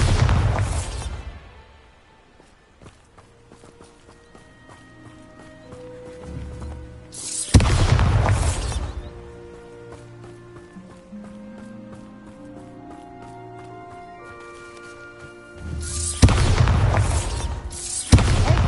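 Bombarda spell blasts in Hogwarts Legacy gameplay: three loud booming bursts, at the start, near the middle and at the end, separated by a quieter stretch of musical score.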